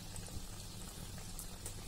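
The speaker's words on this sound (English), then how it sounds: "And now these are frying." Breadcrumb-coated cheesy cutlets fry in a pan with a steady, dense crackling sizzle. Small pops are scattered through it, and it carries on evenly without any voices.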